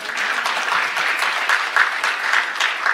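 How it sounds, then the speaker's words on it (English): A round of applause from attendees at a college board of trustees meeting, even, continuous clapping of moderate loudness carrying on for the full few seconds without speech. "give yourself a round of applause."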